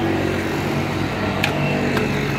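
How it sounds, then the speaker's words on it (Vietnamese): A used 1994 Kia Pride car sits idling with its engine running, a steady, low mechanical hum with faint harmonic drone throughout, plus a couple of brief clicks. "hiện tại thì máy đang nổ nha anh chị nha"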